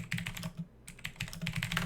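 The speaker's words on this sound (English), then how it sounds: "If you can hear me typing away." Rapid typing on a computer keyboard during a live stream, close and crisp with a steady clatter of keystrokes, a brief pause near the middle, and no talk.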